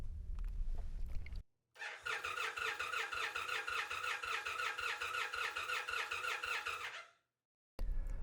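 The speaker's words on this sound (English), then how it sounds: "Pull the pump relay and crank the engine over for 5 seconds to release fuel pressure." A 2025 Indian Roadmaster Powerplus motorcycle engine cranks over for about five seconds with the fuel pump relay pulled, giving a rapid, rhythmic starter whir that begins abruptly and then cuts off, close and clear.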